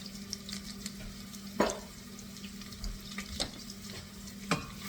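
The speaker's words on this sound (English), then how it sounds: "simmer while we cook the shallots until they're tender" Shallots cook with tomato paste in a pot, making a soft, steady sizzle with a few sharp stirring scrapes and clinks, quiet and close with no talk.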